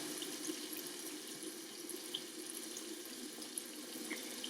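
Tap water runs steadily into a sink to fill and rinse chitterlings, a continuous soft hiss of flowing water with faint splashes, heard alone.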